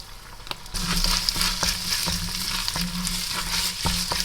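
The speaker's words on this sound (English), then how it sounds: "Get this sizzling." Rice sizzling and crackling steadily in a hot pan, with occasional sharp clinks and scraping as it is stirred, close and fairly loud.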